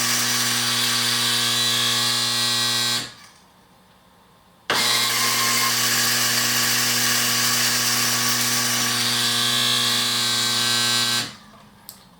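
An Egro NEXT Touch coffee grinder runs its calibration cycle with a loud, steady electric whine, stopping briefly after about three seconds, then running again for several seconds before cutting off.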